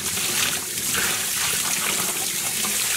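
Water runs steadily from a tap as freshly dyed yarn is rinsed after an acidic dye bath, a loud continuous splashing gush without pause.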